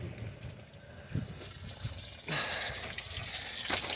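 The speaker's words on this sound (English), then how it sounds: "So it's a pretty good leak." Water runs and drips from leaking plumbing at the back corner of a travel trailer, a continuous splashing, gushing flow with scattered droplet impacts, steady and fairly close.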